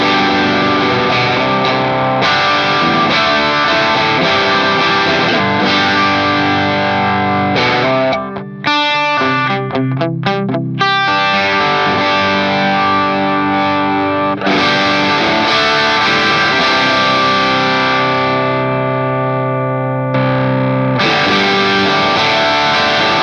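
Electric guitar played through a JAM Pedals Pink Flow Tube Dreamer overdrive, sustained chords and notes with a warm, saturated drive, loud and continuous with a brief choppy break in the middle.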